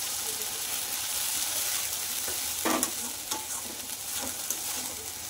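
Water poured into a pan of sizzling fried ginger-chilli spice paste for a Bengali fish curry with potatoes, a steady soft sizzle and stirring with a brief louder gush and a few clinks near the middle.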